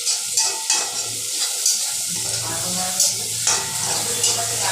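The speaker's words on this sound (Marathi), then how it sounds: "लसूण फोडणीला आवर्जून घाला." Garlic sizzles in oil for tempering with onion at medium heat, a close crackling hiss broken by rhythmic scraping strokes of a spatula stirring in the pan, with a low hum underneath.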